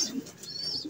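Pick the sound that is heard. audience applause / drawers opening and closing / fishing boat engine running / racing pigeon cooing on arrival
racing pigeon cooing on arrival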